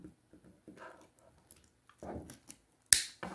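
Scissors snip thread while finishing a beaded pearl heart craft: scattered soft clicks and rustles, then one sharp, close snip near the end.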